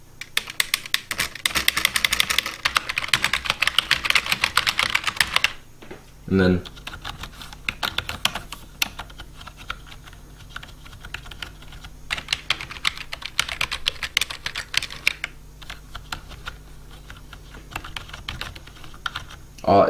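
Typing on a computer keyboard with a rubbery-coated body, bursts of fast close key clacks separated by pauses, with a few brief spoken words and a single thud partway through.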